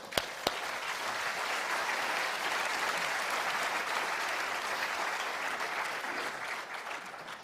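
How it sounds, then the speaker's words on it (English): An audience at a city forum on homelessness in Austin gives a steady round of applause, many hands clapping evenly from the start after two sharp early claps, holding at a moderate level. "Let's give these guys a round of applause."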